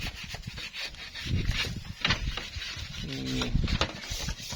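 Wood being sanded by hand, with close, steady rubbing strokes scraping back and forth in an uneven rhythm.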